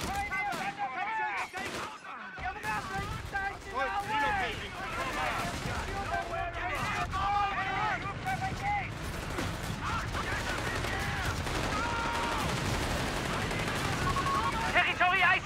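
Battle gunfire in Company of Heroes 3, with dense rapid bursts of rifle and machine-gun shots and explosions rolling continuously under game voices and a player talking.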